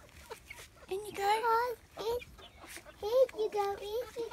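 Domestic chickens being herded into a coop, with several short vocal clucks and calls bursting out in two clusters, close by and moderately loud over light background noise.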